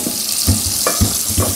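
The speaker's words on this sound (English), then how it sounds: "I like to run a little bit of cold water as I dump my potatoes." Cold tap water runs into a kitchen sink while boiled potatoes are poured out to drain, a close, loud splashing rush with repeated heavier low thuds as the potatoes tumble down.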